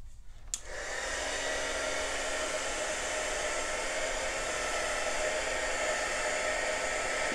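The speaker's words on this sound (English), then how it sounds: "now kind of push it a little bit with that heat gun" Heat gun switched on after a brief click, then blowing hot air in a loud, steady whir that holds unbroken to the end.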